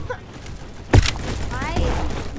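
Gunfire in the Roblox shooter Bad Business: one heavy booming shot with a sharp crack lands near the middle amid softer background game noise, while a voice speaks over the action.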